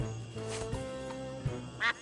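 Game-world duck from Escape from Monkey Island quacking once, a short nasal burst near the end over a steady backdrop of game music and ambience.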